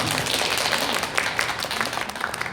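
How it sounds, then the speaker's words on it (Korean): A studio group applauds during a variety show. The clapping is dense and continuous, close and fairly loud for the whole stretch. "알았지? 박수."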